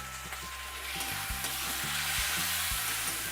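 Chopped tomatoes go into a pan of well-browned onion, giving a soft, steady sizzle of frying with occasional low knocks of the pan or spoon.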